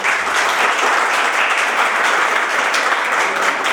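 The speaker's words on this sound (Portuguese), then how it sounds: "Vamos aplaudir" A lecture audience applauds steadily and evenly, a dense continuous wash of clapping filling the room from start to finish with no talk.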